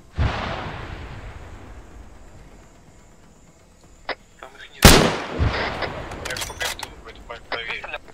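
Gunfire in ArmA 3 booms out: a distant report trailing off, then a loud close crack followed by a second shot and scattered clicks, with voices talking over it.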